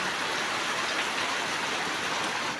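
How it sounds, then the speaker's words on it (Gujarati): Steady, dense rain falls in an unseasonal winter downpour in rural Gujarat, a continuous close hiss with no voices. "ખરા શિયાળામાં વરસાદ આવી ગયો"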